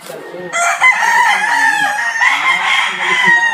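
Roosters at a gamefowl farm in Guagua, Pampanga crowing loudly and close, overlapping calls with clucking fowl, and a person speaking briefly among them.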